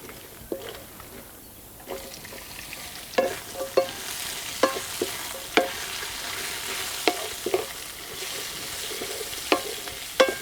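Chopped onions and garam masala spices frying in oil for chicken donne biryani, a soft steady sizzle punctuated by sharp spoon knocks and scrapes against the pan every second or so.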